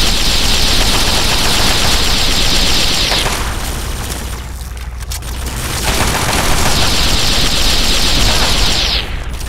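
Dense, sustained gunfire in the video game Fallout 3, loud and continuous with rapid bursts that ease briefly in the middle before resuming.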